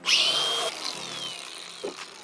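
A power tool cuts along a tape-masked line on a car exhaust pipe. A steady, high-pitched grinding whine runs close and fairly loud, then eases off as the cut ends, with a few scraping knocks at the finish.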